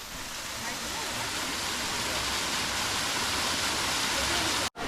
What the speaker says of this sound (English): But this is the waterfall.